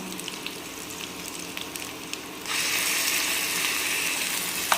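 Ginger garlic paste sizzles in a pan over a medium flame. A steady frying hiss starts low and swells halfway through into a louder, continuous sizzle that runs to the end.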